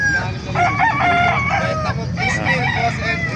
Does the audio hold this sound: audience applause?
no